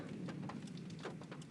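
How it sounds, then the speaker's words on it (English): Heavy rain drums on a roof in a steady, faint wash, with a few sharper drop impacts scattered through. "it's like super rain"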